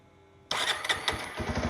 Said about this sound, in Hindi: आइए इस मोटरसाइकिल को अब हम लोग स्टार्ट कर लेते हैं